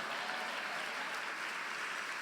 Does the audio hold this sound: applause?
yes